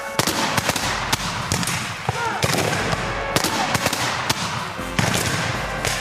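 Civil War reenactors fire a ragged musket volley outdoors, with loud overlapping cracks and bangs scattered across several seconds and talk and shouting mixed underneath.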